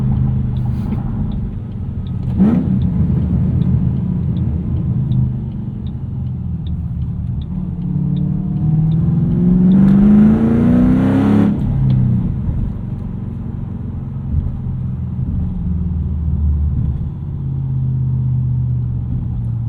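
A 2007 Ford Mustang Shelby GT with a 5-speed manual and loud exhaust pulls hard off the line on Nitto tires. The engine roars, climbs through revs, drops at a shift and keeps rumbling steadily, close and loud.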